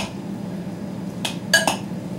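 Pasta is tossed and stirred in a pan, a low rustling backdrop broken by a few quick metallic clinks of a utensil against the pan.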